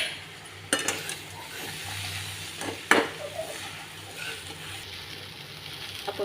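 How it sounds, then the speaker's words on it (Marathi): Soaked poha sautéed and stirred in a pan for a breakfast dish: low steady sizzle with two sharp scrapes or clinks of a spoon against the pan and softer stirring in between, no speech. "आपण पोहे परतून घेतले छान"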